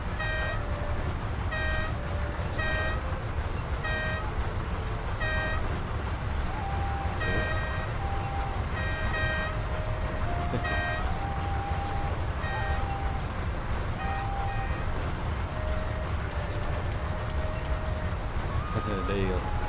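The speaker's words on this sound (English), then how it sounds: "you can honk the horn" Repeated horn honks from a vehicle in the ArcheAge video game, short toots in a steady rhythm under a constant engine-like drone, with a voice talking over it throughout.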